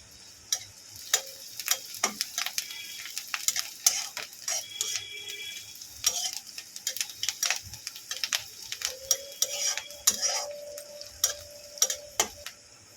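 Green chilies, three of them, frying in a pan for pasta, with repeated sharp scraping and clicking of a spoon stirring against the pan over a light sizzle, close and irregular throughout.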